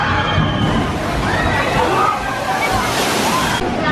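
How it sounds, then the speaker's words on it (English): Water splashes and sloshes loudly from a ride at Knoebels, a theme park with wooden roller coasters. The rushing surge is close and continuous, with crowd noise and voices underneath. "look at this splash here, guys. This is about to be us here"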